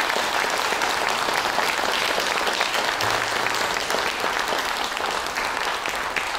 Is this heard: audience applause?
yes